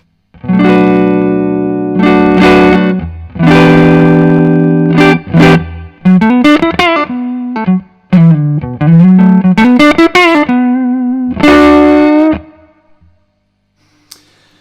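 Electric guitar played through a budget valve amp with the gain turned fully up and the master volume at about a third: loud, heavily distorted chords and bending single-note lines in short bursts with brief gaps, ending in a fading ring.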